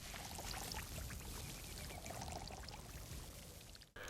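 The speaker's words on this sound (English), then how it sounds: "The ocean." Ocean water rushes in a continuous, dense wash with no breaks, steady and moderately loud, then cuts off abruptly at the end.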